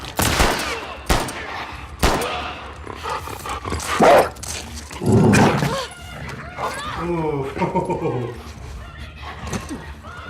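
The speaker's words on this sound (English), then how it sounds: "Them dogs are gonna make this gameplay a motherfucker." Dogs bark in the video game The Last of Us Part II, loud bursts mixed with gunfire and growls in combat, while a person reacts with exclamations over the top.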